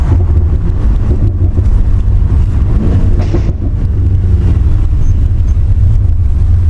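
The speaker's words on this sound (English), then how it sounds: "it still sounds like a muscle car because of the exhaust" A 2019 BMW M5 Competition four-door saloon rumbles deep and steady through its exhaust, loud and close, with some wind buffeting the microphone.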